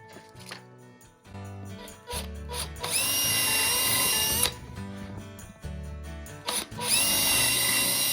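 A power drill bores pre-drilled screw holes through a timber shelf board in two loud whining bursts, each building from a short start to a sustained high drive, with handling knocks between them.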